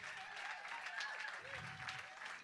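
An audience at a live music performance at the Emily Dickinson Museum gives a band applause, fairly faint and distant clapping mixed with tonal sounds and some voices.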